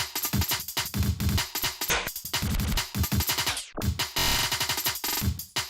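An FL Studio breakbeat processed with the Gross Beat effect plays as dense, punchy drum hits with stuttering gated cuts and brief dropouts, loud and continuous with no talking.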